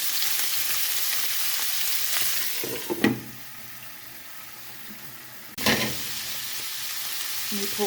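Chopped meat frying in a pan gives a continuous close sizzle that drops quieter for a few seconds, then surges back with a stirring clatter; nobody speaks.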